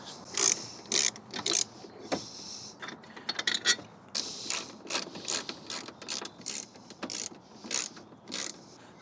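A ratchet with a 16mm socket undoing the gearbox mount bolts on a Mk2 Audi TT clicks in repeated quick bursts with short pauses, close and clear, with no talk.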